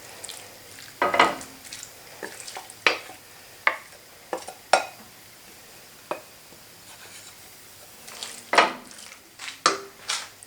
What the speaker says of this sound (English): So I'm just going to saute this off.